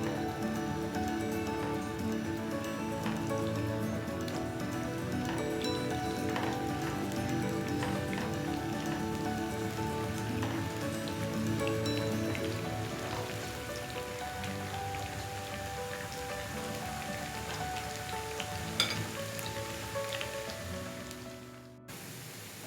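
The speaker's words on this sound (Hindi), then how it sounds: "प्याज को मुझे गोल्डन ब्राउन करना है।" Sliced onions frying in hot oil with whole red chillies, giving a steady, dense crackling sizzle close by that runs unbroken for over twenty seconds.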